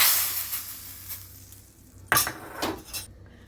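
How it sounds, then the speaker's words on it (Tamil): Mustard seeds and asafoetida hitting hot ghee for Kumbakonam rasam, a loud crackling sizzle that flares with a sudden burst partway through, then settles into a steady fry with light pan clatter. "இங்கே கடுகு, கொஞ்சம் பெருங்காயம்"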